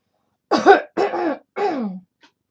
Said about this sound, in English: I'm sorry for coughing that much